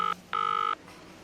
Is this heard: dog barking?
no